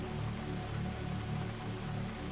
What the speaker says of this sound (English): the rain continued its gentle percussion